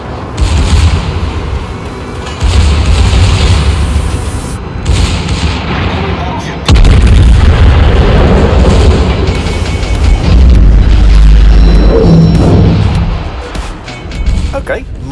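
Battleship secondary guns firing in a naval video game, a German tier 9 battlecruiser, rolling booms and bursts in a continuous loud barrage with someone talking over the battle noise.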